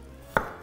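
A single sharp knife stroke through garlic onto a cutting board, one crisp close thud over a quiet room.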